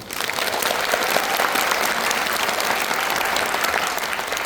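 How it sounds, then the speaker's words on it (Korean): Loud, sustained applause from an audience at a cinema talk event in a Megabox COEX theater hall, steady dense clapping filling the room for the whole stretch. "큰 박수 한번 부탁드립니다"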